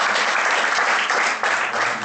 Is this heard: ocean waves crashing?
no